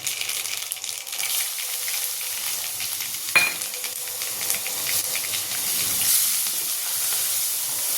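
Steady, loud sizzling of onion frying in hot oil in a kadhai, with a brief sharp crackle partway through and the hiss swelling slightly toward the end.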